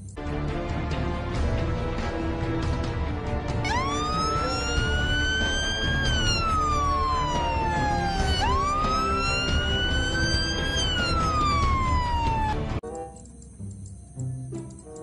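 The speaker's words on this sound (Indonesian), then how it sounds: "ini adalah kapal polisi teman-teman" A toy police boat's electronic siren wails in rising and falling sweeps, loud and close, running steadily before cutting off abruptly near the end.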